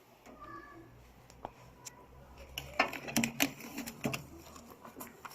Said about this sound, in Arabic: كده بدأت عملية اللحام. كده تمت عملية الفاكيوم.